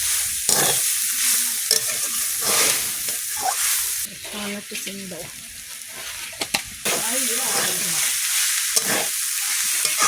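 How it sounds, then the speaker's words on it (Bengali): Cabbage from the garden stir-frying in a wok, a constant loud sizzle with scraping stirs throughout, while someone speaks briefly over the cooking. "এই বাঁধাকপি ভাজা হয়ে গেছে"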